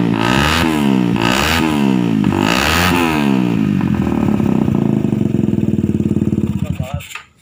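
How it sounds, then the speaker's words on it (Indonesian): A Honda FU motorcycle with a Scorpion aftermarket exhaust revs hard several times in a rising and falling rhythm, then holds a steady high idle before the engine cuts off. It is loud and close, with no talk over it. "Ini suara Scorpion di motor FU Remin Kipli, guys."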